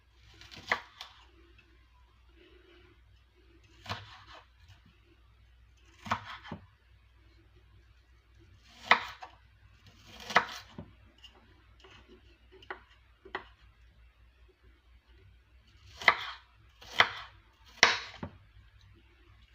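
A knife slices through oyster mushrooms on a board, giving a series of sharp, separate cutting knocks spaced a second or more apart, close and clear against a quiet kitchen background.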